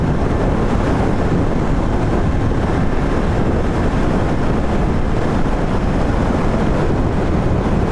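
A strong headwind buffets the microphone on a Royal Enfield Interceptor 650 motorcycle ride on a highway, giving a loud, constant low roar with no voices.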